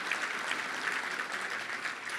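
Luncheon guests at the Little Rock Touchdown Club clap in a brief, steady burst of moderate applause lasting a couple of seconds, heard on its own without speech.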